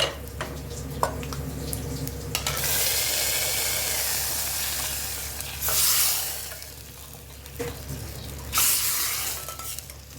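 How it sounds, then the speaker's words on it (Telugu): A sizzling tempering of garlic, onion, curry leaves and coriander is poured into okra charu, with bursts of loud hissing splutter, then quieter bubbling and a spoon stirring in the pot. "చారులో వేసుకుందాం"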